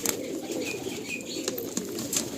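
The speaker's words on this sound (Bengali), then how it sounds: "ব্রিডিং সেকশনে প্রচুর পায়রা এদিক ওদিক রয়েছে" Pigeons in the breeding section of a loft in Behala coo softly and repeatedly nearby, with occasional wing flutters and chirps and no talking.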